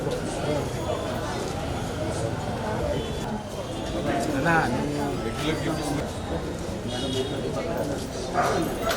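Pet dogs bark and yip repeatedly at a vaccination camp in Guntur, loud and close, amid continuous talking from a crowd of people.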